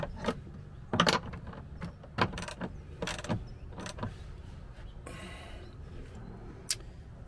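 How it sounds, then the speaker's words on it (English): A ratchet tightening the nut on a golf cart lithium battery cable during an EZGO install, with a series of irregular metallic clicks and clacks, some louder, spread over a quiet, close-up background. "Give it a final tight with the ratchet."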